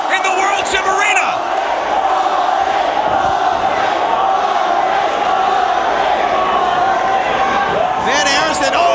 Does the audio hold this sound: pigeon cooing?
no